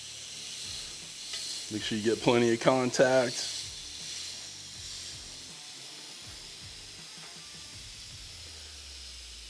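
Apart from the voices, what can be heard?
steaks sizzling on Ninja grill griddle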